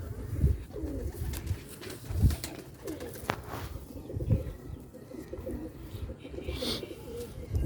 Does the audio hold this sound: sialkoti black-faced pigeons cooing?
yes